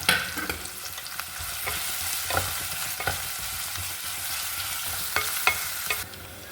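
Ginger, garlic, onion and green chillies sauté in a pan for peas pulao, a steady close sizzle broken by repeated scraping stirs, with no voices until the sizzle drops away at the end.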